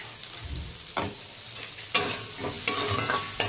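Vegetable curry being stirred in a pan just after chillies go in: a steady close sizzle, broken by several sharp spoon scrapes and clacks at irregular intervals.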